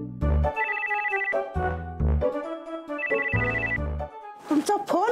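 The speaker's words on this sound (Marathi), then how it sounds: "तुमचा फोन वाजतोय, घ्या ना." A telephone rings with a bright, melodic ringtone, repeating in three clear bursts separated by short pauses, loud and close, with no talk.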